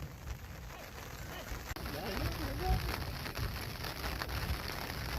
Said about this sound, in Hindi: भाई बरसात में मुझे लग रहा है बकरियां भी एंजॉय कर रही है